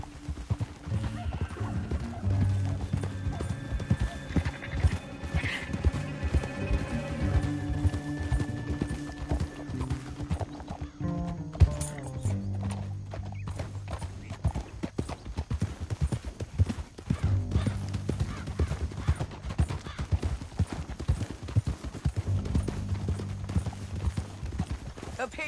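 Horse hooves clip-clop at a steady trotting pace over background music, with a horse whinnying and occasional voices, in the video game Red Dead Redemption 2.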